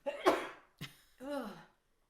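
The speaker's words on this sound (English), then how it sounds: "Go ahead and sneeze again" Gus lets out a sharp, close sneeze, followed by a quick second burst and a softer snorting exhale, with quiet in between.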